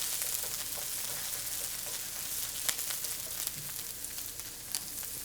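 Chopped vegetables for an omelet sauté in a hot pan with a steady, close sizzle and scattered pops and crackles, running continuously with no talking.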